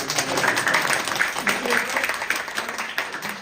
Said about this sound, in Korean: 박수 치셔도 된다니까요